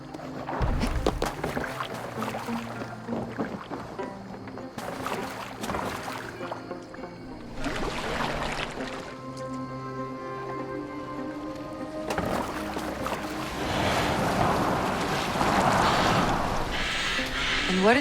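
In Assassin's Creed Valhalla, a boat is steered across water with soft splashing and lapping, occasional oar knocks and creaks, and a swell of rushing water near the end, under voices speaking in between.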